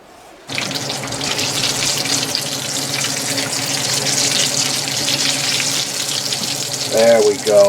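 A potato skin puck drops into hot grease and starts frying, a sudden loud hiss that settles into a steady, dense sizzle, with a voice briefly speaking over it near the end.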